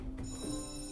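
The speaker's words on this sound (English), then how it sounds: "So we have some bell ringing" A school bell rings between classes in a bustling high school, a sustained tonal ringing that carries through the whole short moment at moderate loudness with no speech.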